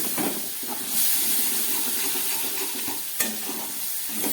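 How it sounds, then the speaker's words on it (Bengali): Ground spice paste with water being stirred and fried in a pan for a Bengali jackfruit dish, with a close continuous hiss and sizzle, occasional scraping strokes and one sharp knock near the end, no talk. "গুঁড়ো মশলা দিয়ে জল দিয়ে ভালো করে আবার একটু কষিয়ে নিচ্ছি"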